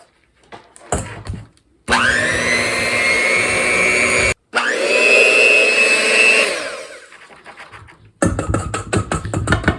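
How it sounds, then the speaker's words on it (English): Electric mixer beaters whir steadily while stirring glycerin and beaver castor into a paste, two sustained loud runs of motor whine separated by a brief pause, framed by clattering bowl knocks at the start and end. "I'm going to stir it up with the beaters until it gets into like a pasty type"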